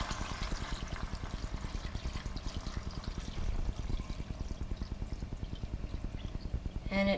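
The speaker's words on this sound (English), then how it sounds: "What I have here is a gallon of water. I'm going to go ahead and pour it in." A gallon of water glugs and splashes as it is poured into a soup pot for ham and bean soup, a steady, rhythmic pour lasting several seconds, quiet and close, with no talk.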